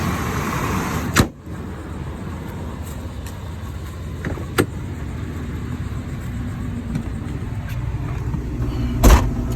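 A Chevrolet S10 pickup truck with a 4L60E transmission and a Corvette servo drives along with a steady low engine and road rumble, broken by a few sharp thumps and clicks from the cab.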